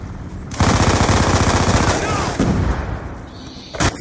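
An MP7 submachine gun in Black Ops 2 fires a loud, sustained rapid burst lasting a few seconds, followed by a brief extra shot near the end, with voices faintly present.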